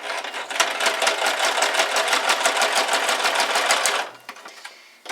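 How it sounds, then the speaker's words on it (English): A sewing machine runs a zigzag stitch down the center of a small Valentine's Day tag, a fast, steady, loud mechanical chatter for about four seconds before it stops abruptly. "I already have my sewing machine up and ready. So I'm going to just do a zigzag stitch all the way down"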